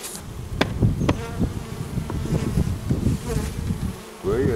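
Dense, steady buzzing of many Carpathian honey bees from an opened small mating hive, close and continuous, with a few sharper individual flights passing by.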